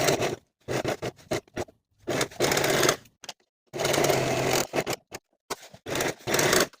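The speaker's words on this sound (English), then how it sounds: "If you're using your serger, you can disengage the blade so that the machine doesn't cut off any fabric" Serger overlocking the raw edges of palazzo pant pieces, with the blade disengaged: repeated bursts of fast mechanical whirring, each a second or two long, separated by short silences and a few light clicks.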